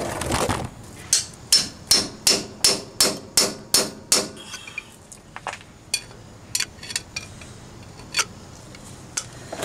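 Sharp metallic hammer blows driving a differential bearing race out of a Jeep Wrangler YJ Dana 30 axle housing, about ten evenly spaced strikes, then a few scattered, quieter taps.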